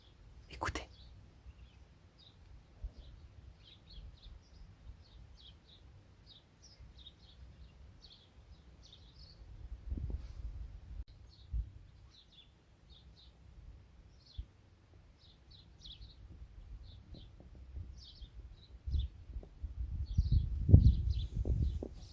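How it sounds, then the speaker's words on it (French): Small birds outside a window give faint, distant chirps repeated steadily throughout, over soft low rumbling and occasional handling noise. "j'aime bien entendre les oiseaux gazouiller"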